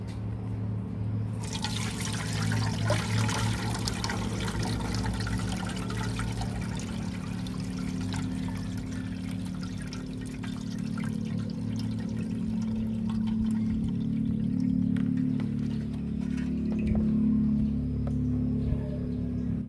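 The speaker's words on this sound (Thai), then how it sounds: "เราก็จะต้องนำไปกรองนะครับ เพื่อใช้แต่น้ำอย่างเดียวนะครับ" Papaya leaf extract water is poured through a filter to strain out the liquid, producing a steady, continuous splashing and trickling with a low background hum for nearly twenty seconds.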